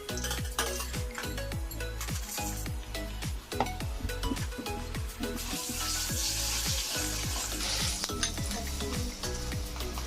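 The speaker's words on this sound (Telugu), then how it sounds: "కొంచెం వేడైనాక ఆయిల్ వేసుకున్నాం" Hot oil sizzles steadily in a pan on the stove for a Telugu gongura chutney, with a dense crackling hiss and repeated metal scrapes and clinks of stirring throughout, close and loud, with no talking.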